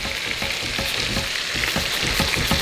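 Prawns fry with ginger in a hot pan, giving a close, continuous sizzle and bubbling with soft scraping and stirring clatter throughout, and no voices.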